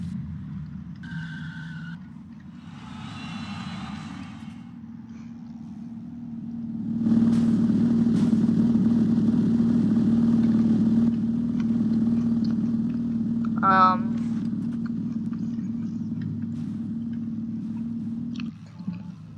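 Simulated vehicle engine in a driving game, a steady low drone that swells louder midway, with tire skidding and brief squeals over the top and short tonal sound effects early on.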